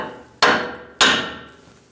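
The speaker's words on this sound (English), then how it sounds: "You can use a removal tool or just tap it with a hammer." Two sharp hammer blows strike a tie rod end on a Ram 1500 to knock it loose, about half a second apart, close and loud, each ringing briefly before fading, with no talking.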